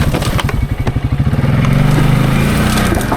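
A Can-Am off-road vehicle's engine revs hard with its tires spinning in mud on a lake trail. The roar is loud and close, with throbbing pulses that rise into a sustained strained drone.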